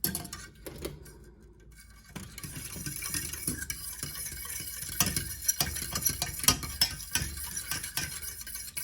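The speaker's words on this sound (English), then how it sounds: "So just make sure you do keep stirring it." A spoon stirs a strawberry peach mixture thickening in a pan, with soft scraping and occasional light clinks against the metal, close and fairly quiet, in irregular strokes after a short lull.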